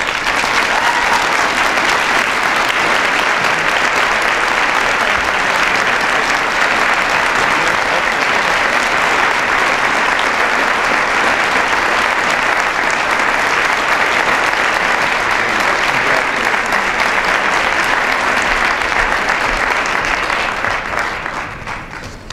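An audience at the 2013 CABR Realtor of the Year award ceremony applauds the winner in a dense, steady burst of clapping that holds strong for about twenty seconds before beginning to taper off.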